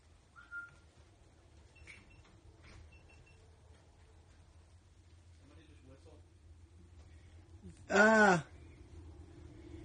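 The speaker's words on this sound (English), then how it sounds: "I heard the whistle, but I don't know." A single short whistle sounds inside a private house at night, one clear rising-and-falling tone lasting about half a second, standing out against an otherwise quiet room with faint background hum.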